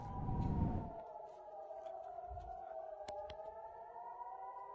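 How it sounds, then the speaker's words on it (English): Air raid sirens wail near a town in Israel, a faint, distant steady tone that slowly drifts in pitch, with a brief burst of wind or handling noise at the start. "So these are air raid sirens, yep."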